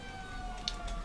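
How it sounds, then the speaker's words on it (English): A football ground siren marks half-time at a Victor Harbor versus Encounter Bay match, a faint, steady tone that holds briefly against distant crowd noise. "It's the siren, Kevin."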